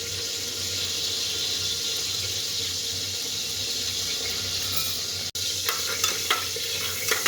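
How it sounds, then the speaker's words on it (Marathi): Mustard seeds hiss and crackle in hot oil in a home kitchen pan, a close, constant sizzle with a brief break and a few sharper pops toward the end. "तर आता मोहरी टाकलेली आहे."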